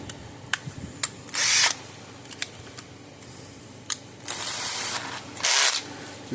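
A ratchet with a deep socket tightens a nut while repairing a Zareba solar fence charger, giving sharp close clicks and several quick ratcheting bursts with no talking.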